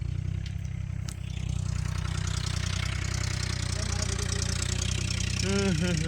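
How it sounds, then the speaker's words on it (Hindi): A tractor parked near a buffalo idles with a steady, close, low rumbling chug, while voices talk over it throughout. "देखो एक ट्रैक्टर उधर खड़ा है"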